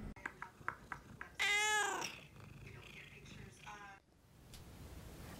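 Several kittens meow in a rapid, overlapping burst, mixed with high chirps and brief cries, fairly close and clear over a soft room background.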